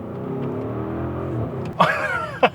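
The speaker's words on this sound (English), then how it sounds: "That burble between shifts is my favorite thing." An Audi SQ7 petrol engine pulls hard with a rising drone, then breaks into a brief burbling crackle between gear shifts, with a couple of sharp pops near the end.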